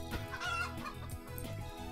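Chicken clucks in a video game, a steady run of fowl-like calls and clucks filling the whole short stretch at an even, fairly close level with no talk over them.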